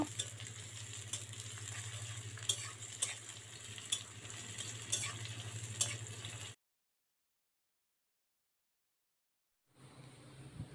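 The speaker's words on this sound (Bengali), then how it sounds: "এবার পেঁয়াজটাকে একটু লাল লাল করে ভেজে নেব।" Chopped onions sizzle and fry in a pan for a village-style desi chicken curry, a steady hiss with occasional spatters and a low hum, then a sudden few seconds of silence before the frying resumes.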